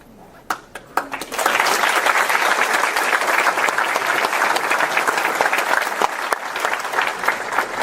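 A few scattered claps build quickly into sustained applause from a large audience at a congressional candidate debate, steady and fairly loud, with no talking over it.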